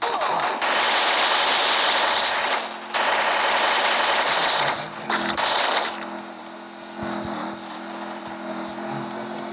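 Rapid automatic gunfire from a shooter video game, loud bursts crackling continuously for the first several seconds, then trailing into quieter intermittent shots and background game noise.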